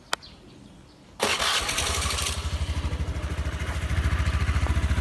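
A motorcycle is kick-started: a brief sharp click, then the engine catches loudly and settles into a steady, throbbing idle close by.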